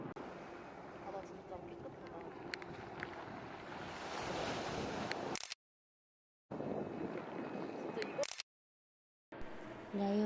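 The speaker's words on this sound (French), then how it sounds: "passer du temps à regarder les vagues ondulantes." Sea waves breaking on the beach in Nice, a steady broadband wash of surf mixed with wind buffeting the microphone, cut by two short silent gaps.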